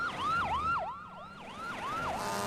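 Wailing sirens of police cars and fire engines passing in front of a supermarket sweep up and down in a rapid repeating cycle, loud and steady, with traffic rumble underneath and no voices.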